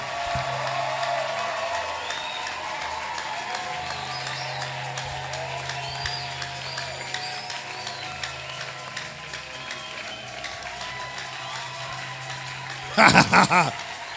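A church congregation claps through a long, steady stretch of rhythmic hand clapping, with voices and a little laughter in the background and a brief louder burst near the end.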